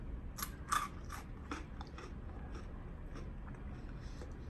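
Quiet crisp crunching of someone chewing vacuum-fried potato chips close to the ear, several bites in quick succession over a soft background hiss.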